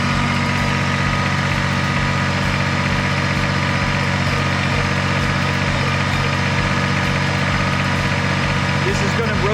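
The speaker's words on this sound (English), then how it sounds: "Then you just rotate the backhoe back down" A Kubota BX23S compact tractor with backhoe runs at a steady, loud idle, a continuous low engine drone with vibration throughout and no clear pauses.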